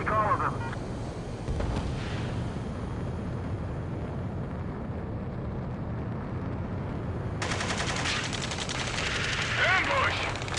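Gunfire from a far shore in the combat flight game Ace Combat 7, a dense, continuous rattle of automatic fire and booming blasts that swells louder toward the end over steady engine rumble.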